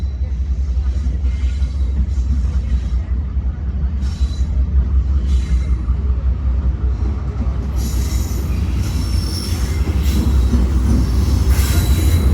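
Allama Iqbal Express pulling into Sahiwal station behind a Blue Tiger locomotive, with a heavy steady rumble of coaches and loud, persistent high wheel squeal that swells toward the end as the train brakes.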